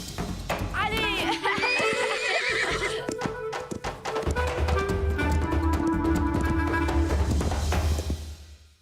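A horse whinnies loudly and repeatedly while hooves clip-clop steadily, with other sounds mixed in and a brief lull midway.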